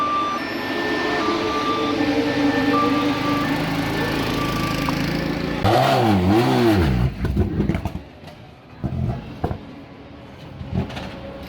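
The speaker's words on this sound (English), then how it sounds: "the Ford Zaxby Turbo Capri from 1980s. Yeah, it is pretty loud." A loud 1980s Ford Turbo Capri race car engine roars close by, a sustained drone that swells into sharp, rising and falling revs before cutting to intermittent bursts and quieter spells.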